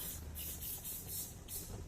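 Short bursts of fine disinfectant spray on barber tools hiss in a steady rhythm, close and clear, over a low background rumble.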